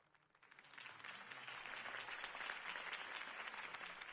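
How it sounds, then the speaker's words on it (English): Crowd applause in a Batman video game swells from a quiet start into sustained, dense clapping that holds steady for several seconds, moderately loud with no talk over it. "If only Mr. Wayne, my campaign's largest backer, could have heard that applause"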